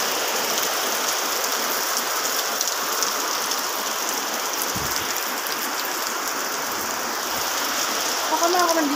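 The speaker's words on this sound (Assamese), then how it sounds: "বৰষুণ আহিল পুৰা বৰষুণ মই যে কেনেকৈ যাম" Heavy rain pours in a steady, dense hiss of drops on surfaces, loud and unbroken from start to finish.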